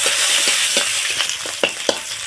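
Cumin, chopped onion and slit green chillies fry in mustard oil in a kadai, a loud, close, continuous sizzle punctuated by regular stirring knocks and scrapes, with no speech.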